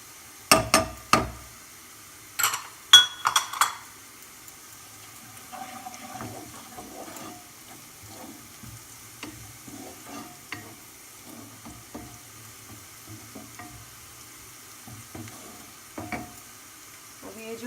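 Onion frying in a pan while being stirred, with turmeric added, while fish curry is prepared. A few sharp scraping and clattering knocks open it, then a soft, quiet sizzle with light stirring scrapes follows, and no one speaks.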